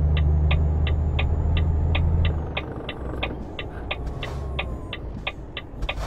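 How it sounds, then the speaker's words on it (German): A heavy truck in Euro Truck Simulator 2 rumbles with a deep, loud engine drone that drops away partway through, leaving a lighter running hum while a steady, regular ticking pulse, like an indicator, continues throughout. "Aber das Getriebe hört sich nicht mehr gut an von dem LKW."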